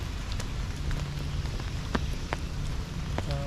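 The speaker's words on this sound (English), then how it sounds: "It was during the middle of a rainstorm, which added to the exoticness of the walk." Rain falls steadily in woodland during a rainstorm, a dense close patter with scattered louder drops striking leaves and other surfaces. No voices are heard.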